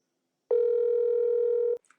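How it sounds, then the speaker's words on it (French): Outgoing WhatsApp call tone: a single steady electronic tone lasting just over a second, clear and close against silence, followed by a faint click. "Il y a quelqu'un qui a essayé d'appeler sur WhatsApp, je l'appelle."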